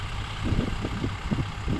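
A low, rumbling farm tractor engine idles steadily nearby in a sugarcane field during soil preparation, its throbbing chug continuous throughout the short stretch.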